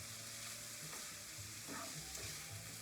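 Onions browning at the edges in a pan alongside spiced turkey sausage give off a steady, quiet sizzle with faint stirring scrapes, close by and unbroken by talk.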